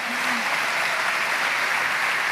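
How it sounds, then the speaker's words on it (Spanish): A church congregation applauds the Lord, a dense, steady round of clapping that fills the whole moment with no talk. "Damos un aplauso al Señor."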